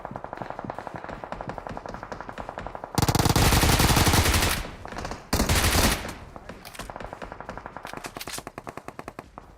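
Rapid, loud automatic fire from a Bizon submachine gun in PUBG Mobile, with bursts of fast, regular shots, dense continuous volleys in the middle and more bursts after.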